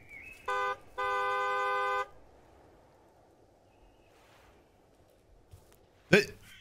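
Two electronic car horn honks in a deer-hunting video game, a short one then a longer sustained blast, followed by quiet ambience and a brief sharp noise near the end.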